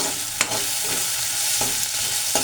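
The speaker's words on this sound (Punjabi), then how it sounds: "ਜਿਹੜਾ ਇਹ ਵਾਲਾ ਮਸਾਲਾ ਆਪਾਂ ਭੁੰਨ ਰਹੇ ਆ" Masala and potatoes roasting in oil in a pan for kadhi pakora give off a steady, close sizzle, broken by a few sharp scrapes of a stirring spoon against the pan. No one speaks.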